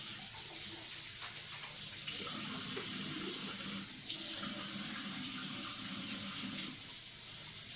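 Water runs steadily from a kitchen tap while hands are washed beneath it, a close, continuous splashing hiss with small shifts as the hands move through the stream, with no talking.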